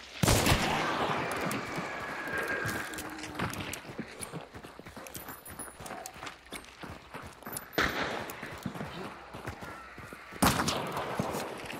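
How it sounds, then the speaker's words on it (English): Gunfire in the video game Hunt: Showdown, a burst of sharp shots near the start and more cracks around the middle and end, mixed with footstep-like clatter and scuffling. "Is that us? Yeah, shooting."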